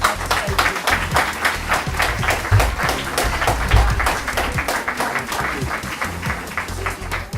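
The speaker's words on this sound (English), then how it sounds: "give yourselves a big round of applause" Audience applause at a community participation event in Higher Folds, Leigh, steady and dense clapping from a crowd sustained throughout, with some individual claps standing out.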